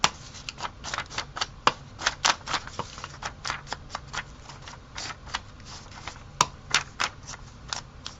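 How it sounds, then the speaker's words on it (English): Paper torn by hand to make a ragged edge, writing paper for a botanical journal card: a close, quiet run of crisp rips and crackles in quick irregular bursts. "I'm just going to tear this so that I have a torn edge"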